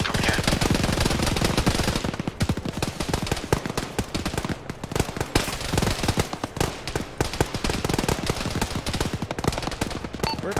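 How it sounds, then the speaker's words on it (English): Loud, relentless video game gunfire fills the whole stretch, with rapid automatic bursts overlapping into a dense, continuous barrage. "There's just too much gunfire for me to get to you"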